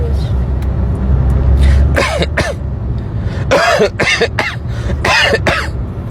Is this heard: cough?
yes